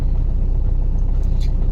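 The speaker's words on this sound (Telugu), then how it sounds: "గంట అవుతుంది ఇప్పుడు ఇలా ట్రాఫిక్ జామ్ లోకి వచ్చి." In a traffic jam on the road near Kaleshwaram during a pilgrimage festival, a steady low rumble of idling cars and engines comes from close by and continues unbroken, with no talk.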